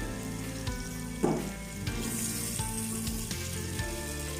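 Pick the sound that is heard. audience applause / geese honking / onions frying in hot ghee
onions frying in hot ghee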